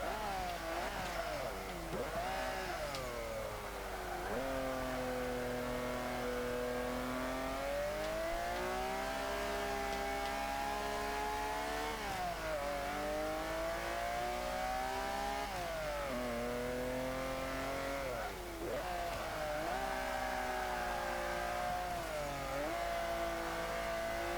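A 1940 Ford De Luxe Coupe with a bigger turbocharged engine and its original gearbox, in Forza 5, revs continuously and loudly, its pitch climbing and dropping through repeated gear changes across the whole stretch.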